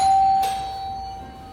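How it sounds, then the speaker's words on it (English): A single close electronic doorbell chime rings out clearly and fades away in a quiet room of a hotel penthouse in Sierra Leone. "So let me ring the doorbell and he's going to open it up for us."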